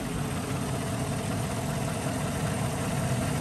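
A 2014 Chevrolet Silverado 1500 Z71 idles steadily under an open hood, a constant low rumble with an even mechanical hum, heard up close and alone.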